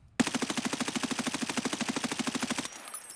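Full-auto M4 rifle fire in the video game Escape from Tarkov, a loud, fast, evenly spaced burst of around twenty-five shots lasting over two seconds, then abrupt stop with a faint ringing tail.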